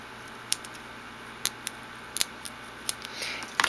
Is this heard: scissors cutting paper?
yes